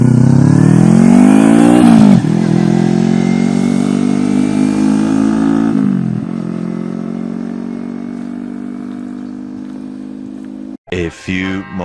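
A Kawasaki Ninja 300 motorcycle engine on a test ride, loud and close, holding a steady high rev with gear changes dropping the pitch, then easing off before a few short blips at the end.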